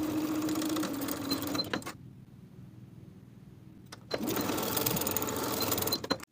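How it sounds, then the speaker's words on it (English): A sewing machine stitches the 5/8 inch seam allowance of high-waisted A-line shorts in two close, steady whirring runs, separated by a short quiet pause. "On the opposite side, you'll sew the full seam, both sides of the 5/8 inch seam allowance."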